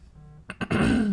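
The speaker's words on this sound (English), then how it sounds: "I needed to pause and clear my throat." A man clears his throat once, a short rough rasp, close and fairly quiet, with a few brief throaty bursts trailing into a longer guttural sound.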